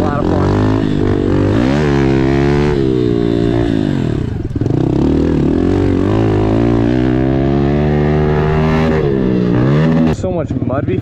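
A modified Honda CRF110 pit bike is ridden around a muddy backyard dirt track, its small engine buzzing loud and close, repeatedly revving up and easing off in rising and falling sweeps, with a brief dip and sputter near the end.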